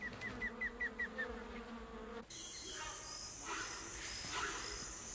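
Wasps buzzing in a tropical rainforest, a series of short, evenly spaced buzzy pulses at first, then a steadier, higher insect hum with scattered chirps carrying through the rest.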